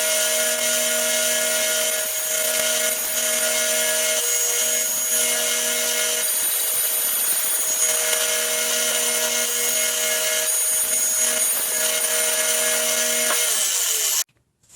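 Drill spinning a router bit that cuts a round wooden tenon, a continuous loud high whine with steady tonal hum running unbroken for about fourteen seconds before stopping abruptly.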